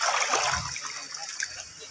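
People bathing in a hot spring resort pool, with nearby water splashing and sloshing under bright constant spray and voices, including children, talking throughout.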